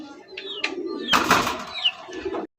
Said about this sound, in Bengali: চমৎকার একজোড়া হাই ফ্লিং রিবাস কবুতর